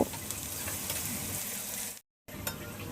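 Chopped onion and garlic fry in a pan, browning in a steady crackling sizzle with occasional stirring, broken by a brief complete silence near the end before the sizzle resumes.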